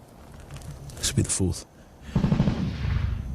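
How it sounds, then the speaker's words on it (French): Gunfire during an attack in Helmand province, Afghanistan: a quick burst of shots, then a longer rattling volley, moderately loud and somewhat distant amid background noise. "Ça s'entend à leur coup de feu."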